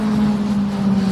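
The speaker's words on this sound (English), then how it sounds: "Like that guy's choice of exhaust." A car exhaust passing by outside a whiskey store in Holland, Michigan, a loud steady droning rumble with a strong low hum that holds evenly for about a second, with no talk.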